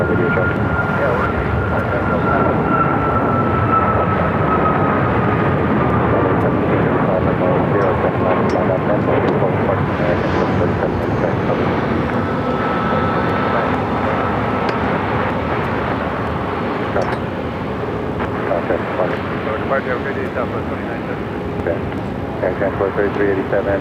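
An American Airlines Boeing 737 jet taking off at Phoenix airport, its engine roar building into a loud sustained rumble with a rising whine, while people talk over it.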